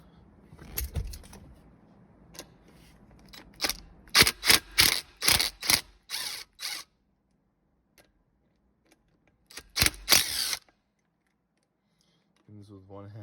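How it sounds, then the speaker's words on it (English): Bolts on a 2004 Infiniti G35 shifter assembly being loosened, with bursts of rapid ratchet clicking in several runs, then pauses and a brief low hum near the end. "you want to take these 3 bolts out"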